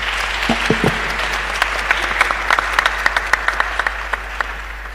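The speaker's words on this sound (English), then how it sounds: "Can we have a round of applause to close this?" Audience applause closing the final panel session of a waste-to-wealth forum, a dense, steady wash of many hands clapping that builds and holds across the room, with a few sharper individual claps standing out near the end.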